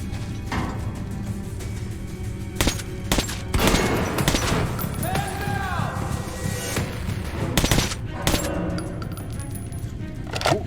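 Gunfire in Metro Last Light Redux, a long-scoped rifle firing repeated loud, sharp shots at irregular intervals over the busy din of combat, with occasional metallic clinks between the shots.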